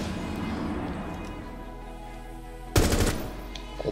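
Gunfire in Rainbow Six Siege: one loud, sharp burst of rapid shots breaks a quiet, humming stretch, followed by a brief fading tail and a faint later click.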